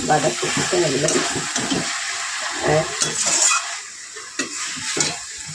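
Cabbage curry with rohu fish head is stirred in a pan, giving a bubbling sizzle and spatula scrapes in uneven bursts, close and fairly loud, with quieter gaps between strokes.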